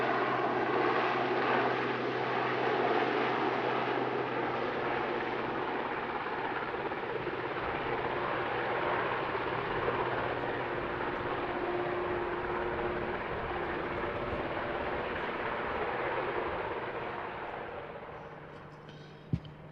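A historic Sea King helicopter in a flying display at the Midlands Air Festival 2025 gives a steady, broad rotor-and-engine roar at a distance, holding level before fading slightly near the end.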